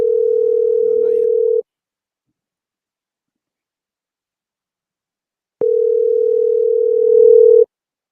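An unanswered phone line gives two steady electronic ringback tones, each lasting under two seconds, separated by a long silent gap, clear and close.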